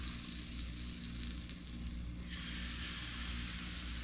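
Crepe batter swirls in a hot pan with a quiet, even frying hiss over a low steady hum, faint and continuous with no voices.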